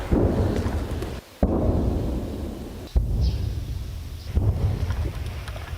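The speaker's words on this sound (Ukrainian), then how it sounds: "Звуки вибухів ширяться українським Нью-Йорком кожні кілька хвилин." Artillery shelling booms through a frontline Ukrainian settlement: two or three heavy, abrupt blasts break a constant low, wind-like rumble, distant and dull, with no voices.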